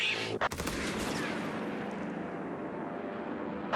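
Rapid strafing gunfire from a P-47 Thunderbolt in the World War II strategy game Company of Heroes 3, a dense, loud burst of machine-gun fire and impacts rolling continuously after a sharp opening crack.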